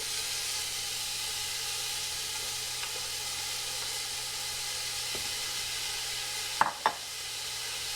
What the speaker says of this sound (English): Now that our oil is heated up, I'm going to be adding the onions.